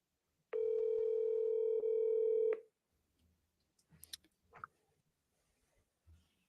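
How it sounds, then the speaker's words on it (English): A single steady telephone keypad tone held for about two seconds as the number 3 key is pressed, loud and close, followed by faint handling clicks and brief soft noises. "Justin, I'm going to hit number 3"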